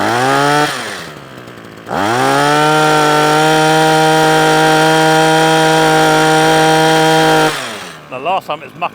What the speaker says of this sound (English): Turn it on, give that a pull. I fired first pull.